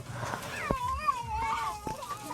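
A cat meows near a fishpond during a fish harvest, a drawn-out rising and falling cry close to the mic, heard over low outdoor background noise.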